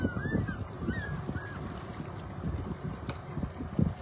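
A small passenger boat cruising on Lake Naivasha, with low rumbling water and hull noise under buffeting wind, faint and steady throughout, a few thin whistling tones drifting above.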